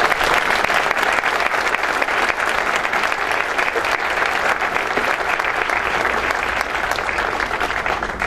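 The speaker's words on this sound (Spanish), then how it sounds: "Un fuerte aplauso para EcoWater" Sustained, dense audience applause for EcoWater at an environmental cooperation award ceremony, loud and even throughout with no voices over it.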